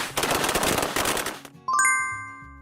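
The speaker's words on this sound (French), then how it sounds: "Le pétard!" A firecracker goes off in a dense, crackling burst lasting over a second, then gives way to bright, ringing chime tones.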